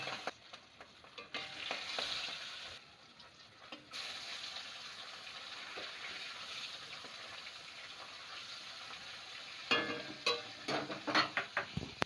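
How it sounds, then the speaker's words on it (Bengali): Hilsa fish pieces fry in oil in a pan with a soft, continuous sizzle that turns into a burst of sharper spattering crackles near the end, quiet and without speech. "বাকি মাছগুলো ভেজে নিচ্ছি এবার"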